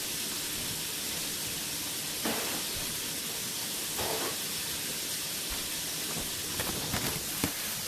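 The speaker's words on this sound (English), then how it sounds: "I'm deep frying them. I'm going to get them nice and crisp." Constant sizzling hiss of oil deep frying chicken tenders, with occasional brief bursts of crackle and spatter.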